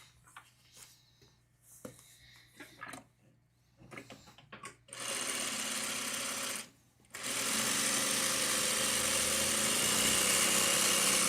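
Sewing machine stitching fabric, first some quiet handling and rustling, then a loud, fast continuous whirring run, a brief stop, and another sustained run, close to the microphone.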